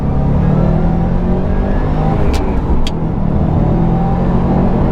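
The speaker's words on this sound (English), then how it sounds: "It makes some noises in the engine." A Subaru WRX STI's engine drones loud and close from inside the car as it pulls in second gear, a steady low rumble with two brief sharp clicks midway and no talk.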